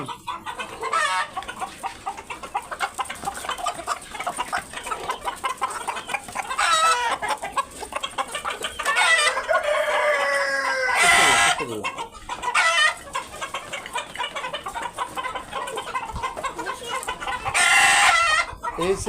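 Hens and roosters of hilly and local breeds cluck throughout a small urban farm, with a few loud crows standing out near the middle and end, close and lively over a steady bed of fowl chatter.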